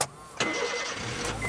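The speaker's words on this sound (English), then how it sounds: "May has already got her engine started." A car engine cranks briefly, catches and settles into a steady running rumble, heard close and fairly quiet, with no talk over it.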